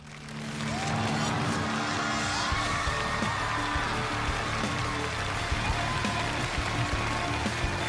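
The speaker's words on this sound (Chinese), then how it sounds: "掌声有请挑战者出场。" A studio audience on a Chinese television challenge show applauds as a challenger enters, a sustained, dense wash of clapping over music with scattered cheers.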